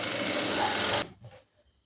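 Sewing machine stitching girls' uniform pants, a dense rapid run of stitching for about a second that stops abruptly, leaving faint handling clicks.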